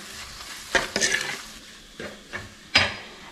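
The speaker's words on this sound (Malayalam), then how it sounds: "ഈ മസാലയുടെ പച്ച മണമൊക്കെ മാറുന്ന വരെ നന്നായിട്ടൊന്ന് വഴറ്റി കൊടുക്കാം" Masala for a beef curry with tapioca being stirred and sautéed in a pan: a few scraping, rustling stir strokes over a soft sizzle, spaced irregularly and close by, with no talk.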